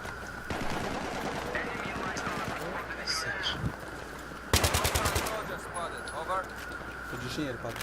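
Rapid automatic gunfire in a video game, a short loud burst of closely spaced shots mid-clip, amid excited talking and other game noises.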